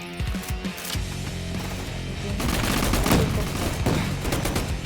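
Rapid gunfire in a Roblox gun-fight arena game, pistol shots sounding as dense bursts over constant game background noise, loud and close, with no talking.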